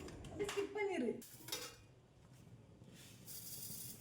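Mustard seeds and fenugreek drop into a pan on a slow flame for dry roasting, giving a brief rattle and clink of seeds and metal, then a faint, steady rustle.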